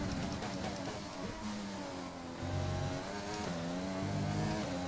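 A Formula 1 car engine in the F1 2020 racing video game revs and shifts steadily at close range, its loud whine rising and stepping through gears with no talking.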